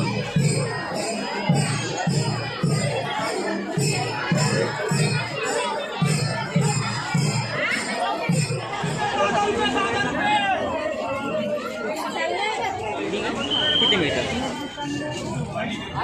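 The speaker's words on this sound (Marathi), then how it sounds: "अरे बापरे, काय गर्दी रे." A dense crowd chatters and murmurs at the Shri Sant Bhojaji Maharaj temple on New Year's Day, with steady overlapping voices, children's calls and faint jingling throughout, close and busy.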